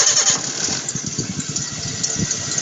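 A car engine with a squeaking idler roller cranks and fires up close by, a loud burst at the start settling into a rapid, pulsing idle.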